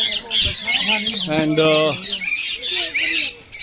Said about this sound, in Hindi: ये है तोते जो कि बहुत परेशान है पिंजरे में बंद होके